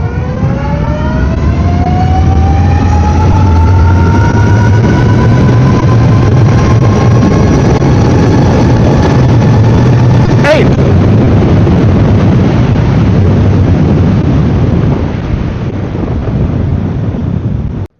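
A Wired Predator car accelerates hard on an eighth-mile pull, the engine note climbing steadily in pitch through a gear under heavy wind buffeting, then a sharp shift and continued roar, loud and close.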